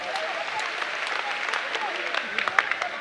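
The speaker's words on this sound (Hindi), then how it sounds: "ताली बजाओ इस बच्चे के लिए" An audience at a spiritual discourse gathering claps steadily for a few seconds at moderate distance, while a voice talks over the clapping.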